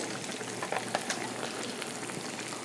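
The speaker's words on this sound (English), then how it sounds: "And that's going to fry right up." Steady crackling sizzle of chicken frying in about 1.5 inches of hot oil in a skillet, with scattered pops and spits over a constant hiss.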